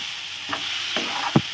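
Masala with potato and green chickpea paste fries in a pan under a steady hiss of sizzling, broken by three scraping stirs, the last one loudest, close by and without voices.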